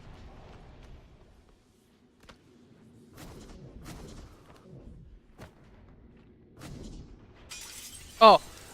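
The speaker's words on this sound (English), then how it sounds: "Oh, the glass is broken." In the video game Prey, a single loud pane of glass shatters near the end, following quieter in-game clunks and thuds while a person talks.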